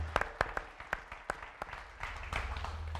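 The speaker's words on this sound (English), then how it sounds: "give Kirby and all of his staff a big round of applause for the best conference" Conference audience applause starts as scattered, distinct claps from a few people and then thickens into denser clapping near the end, heard from a slight distance.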